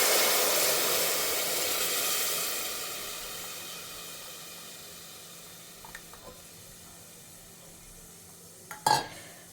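Spice powder frying in oil hisses and sizzles steadily, loudest at first then easing, as tamarind water is poured in; a few small clinks and a sharp stir or splash come near the end.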